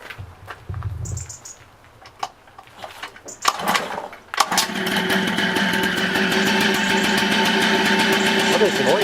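A small engine is cranked and then catches at a French roadside, with a few sputtering attempts and clicks before a steady, loud high-pitched running drone takes over for the rest of the clip; people talk at the start.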